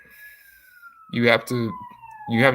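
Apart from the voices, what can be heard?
emergency vehicle siren from nearby fire station or ambulance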